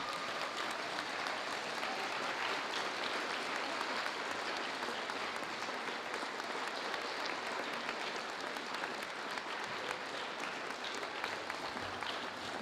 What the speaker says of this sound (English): Please join me in applause for this year's Founders Day honoree.